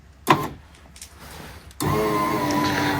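Repaired Subaru power window: a thump and brief motor whir, then the window motor starts again and runs as a steady, fairly loud electric whine close to the door.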